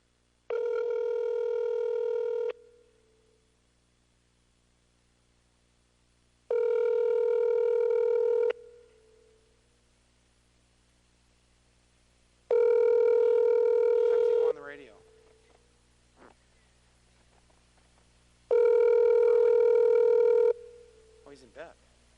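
Telephone call to a radio station: a steady dial-like ringback tone sounds in four even two-second bursts separated by silent gaps, with faint sweeping chirps and clicks after the later ones, heard clearly through a line.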